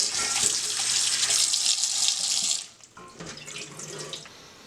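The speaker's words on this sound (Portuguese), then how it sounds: "vamos pegar o pepino e lavar ele para retirar bem o sal" Tap water runs steadily over a salted cucumber being rinsed in a sink for a sweet-and-sour sunomono, a bright hiss that cuts off partway through, followed by quieter splashes and handling sounds.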